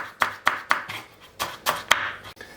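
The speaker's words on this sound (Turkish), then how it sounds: "Yemeklik bir şekilde küçük parçalar halinde biberlerimi doğruyorum." Knife chopping peppers into small pieces on a cutting board, a steady series of about seven sharp, close chops with short pauses between them.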